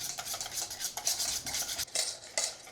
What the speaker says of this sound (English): I'm just gonna whisk it in. Stir and whisk, stir and whisk.